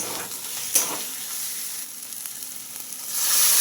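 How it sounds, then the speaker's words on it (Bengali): Grated coconut fries in hot oil with tempering spices for a moong dal and ridge gourd dish, a steady close sizzle with a sharp clink of stirring early and hissing that swells toward the end. "ফোড়নের সাথে এই নারকেলটাও আমি ভাজা ভাজা করে তারপরে কিন্তু ফোড়নটা দেব।"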